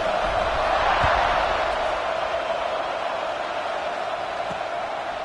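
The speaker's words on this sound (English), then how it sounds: "this crowd is buzzing after that last score." A stadium crowd in the football game College Football 26 keeps up a constant broad roar during an LSU game, loud and even throughout with no distinct cheers rising out of it.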